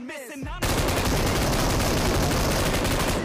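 M249 light machine gun firing in PUBG Mobile, a long unbroken stream of rapid, loud shots starting abruptly after a brief voiced moment and continuing steadily to the end.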